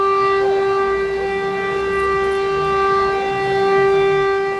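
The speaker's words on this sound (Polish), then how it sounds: "Punktualnie o godzinie 12 nad miastem rozległ się sygnał syren" Civil defense sirens sounding over a Polish town at noon for a 75th anniversary commemoration, one steady loud sustained wail held throughout.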